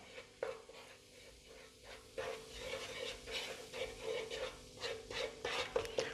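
Turmeric and coriander powder are mixed in a pan as the spices fry, with repeated scraping stirs over a soft sizzle, close and fairly quiet.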